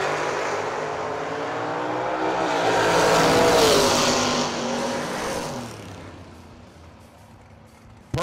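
A dragster makes a drag racing run at the Ultimate 64 event: a loud, rough engine roar swells to a peak, then fades away with the car, with no talk over it.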